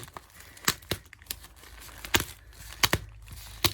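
A plastic bag holding yarn from an Etsy shop is opened by hand, producing a string of sharp, close crinkles and rustles with short quiet gaps between them.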